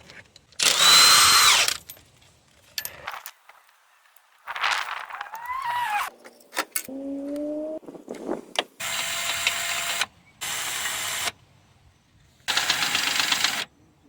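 A power tool removes a 19 mm bolt from a Toyota Camry 2.4 engine during timing chain cover removal, with loud, close bursts of whirring and rattling broken by short pauses.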